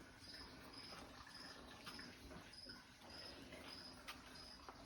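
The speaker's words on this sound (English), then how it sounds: "You can hear my crickets in the background." Crickets chirp steadily in the background of a summer greenhouse, a faint, regular high-pitched pulsing over low ambient noise with no talking.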